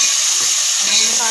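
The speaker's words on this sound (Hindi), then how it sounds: "मसाला भुन के" Masala frying in a pan, a steady close sizzle and hiss that runs the whole time, with faint stirring under it.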